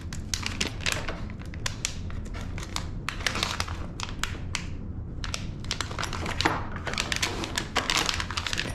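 Crinkly plastic packaging from a Ring security camera and mount kit, handled and pulled at while being opened: dense bursts of crackling and rustling in uneven clusters, close and fairly loud, with brief quieter gaps.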